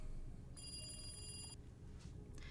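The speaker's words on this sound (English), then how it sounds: "The phone on the desk rang" A desk telephone in a police office rings once with a bright, sustained electronic bell tone lasting about a second, fairly quiet over a low steady room hum.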